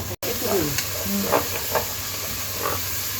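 Onions sizzle and hiss in a hot pan for duck curry, a steady frying crackle with stirring noises and a few faint voice fragments under it.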